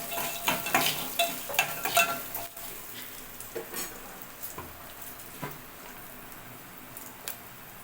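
Spoon stirring semiya upma ingredients with green and dry red chillies in a pan, with a string of quick scraping clatters at first that fade to a soft, steady sizzle.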